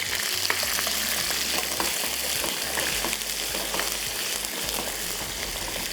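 Boiled mutton frying with garlic-ginger paste in hot oil, a dense, continuous crackling sizzle that stays even throughout, with a faint low hum beneath and no pauses.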